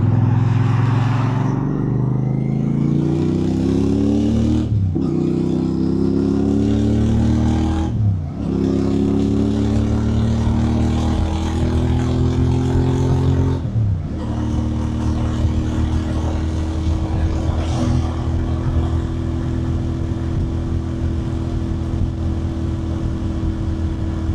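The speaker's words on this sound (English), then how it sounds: "I've mic'd the bike up so you can get a gist of what it sounds like" A Royal Enfield Bear motorcycle engine fitted with a DNA air filter, recorded close, revs up and drops back in four or five loud throttle blips, then settles into a steady, throaty rumble.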